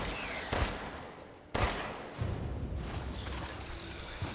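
Two sharp gunshots ring out in Resident Evil Village, about a second apart, over a loud, dense game background of rumble and ambience.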